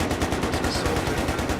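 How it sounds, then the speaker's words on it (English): Rapid gunfire close to the player in the shooter game Battlefield 3, a dense, steady rattle of automatic shots with no pauses, loud and continuous. "Someone was shooting near me, which suppresses me, which blurs my vision."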